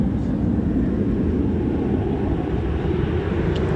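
MC-130J aircraft idle at RAF Mildenhall, their engines giving a continuous low, droning rumble at a steady level, heard from some distance.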